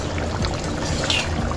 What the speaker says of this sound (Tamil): இப்போ வந்து நம்ம தலைப்பால் சேர்த்துப்போம்.